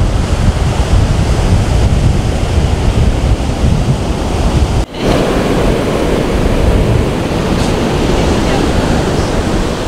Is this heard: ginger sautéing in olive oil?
no